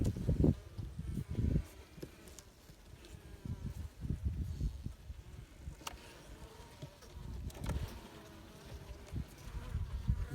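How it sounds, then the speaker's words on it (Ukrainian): Honeybees on a hive frame after overwintering, with a low, uneven buzzing that swells and fades in soft bursts near the ear, accompanied by light rustling and no talk. "Ми бачимо, що є бджілка сидить на одній рамочці."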